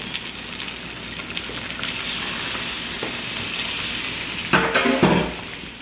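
Milk being stirred into a chicken spaghetti mixture in a pan, giving a steady soft sizzling, scraping texture throughout with a couple of louder utensil clatters near the end.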